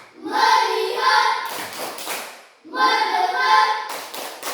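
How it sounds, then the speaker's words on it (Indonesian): A primary school class chants together in unison, then claps through a short burst of quick hand claps. The rhythmic focus routine repeats with chanting again and fairly loud, close claps. "Sebelumnya kita tepuk fokus dulu."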